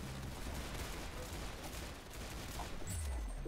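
Rapid gunfire in a shooter video game, a dense continuous burst of shots with a constant loud crackle and rumble, close and unbroken across the whole stretch.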